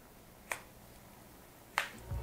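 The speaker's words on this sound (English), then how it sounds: "You can probably hear when we move that slider," A slider on an Honor Magic 2 phone, whose screen slides down to reveal the cameras, makes two crisp, snappy clicks about a second apart, close and quiet with no talking.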